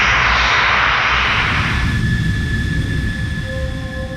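Fighter jet engine roaring loud and close, a broad rushing blast that fades over the first two seconds into a steady whining hum with a high tone.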